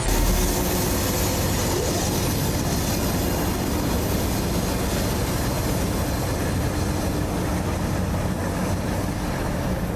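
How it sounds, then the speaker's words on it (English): A burning train rolls along the railroad with flames and smoke pouring out, a dense continuous rumble and broadband roar holding steady and loud for the whole stretch, with no speech. "As the train moved with flames and smoke pouring out of it"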